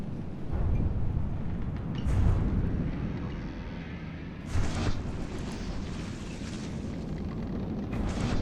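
Missiles from a cruiser striking a ship in the naval combat game From The Depths, heard as a rumbling battle din with several heavy booming impacts, a strong one near the two-second mark and another around four and a half seconds.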